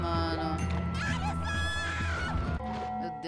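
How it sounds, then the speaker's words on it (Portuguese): Chaotic screaming in the video game Noita, dense and loud throughout amid bursts of crashing explosions and layered game effects, with a busy continuous wash of sound. "Que gritaria"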